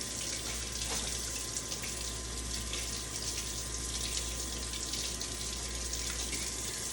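A kitchen tap runs steadily into the sink while limes are rinsed under it. The gushing water is close and continuous, with no voices.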